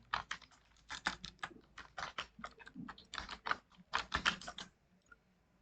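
Someone types quickly on a computer keyboard, producing dense bursts of close, crisp key clicks in an uneven rhythm for about five seconds before stopping, with no speech.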